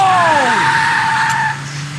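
A car in the Max Payne video game skids with a loud tire squeal whose pitch sweeps downward, over a steady engine drone, close and intense for about a second and a half before easing off.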